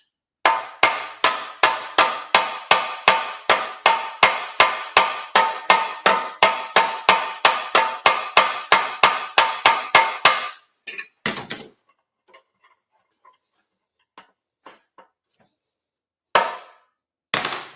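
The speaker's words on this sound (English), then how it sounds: "Notice how I'm using the hammer. Gently. Flat against the metal." A long run of quick, even, gentle hammer taps on thin sheet metal, about three per second, followed by a few scattered lighter knocks and quiet gaps.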